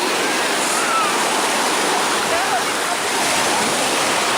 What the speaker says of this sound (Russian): И вот волнушка.